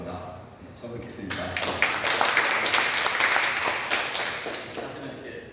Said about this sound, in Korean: 박수 받으니까 좋네요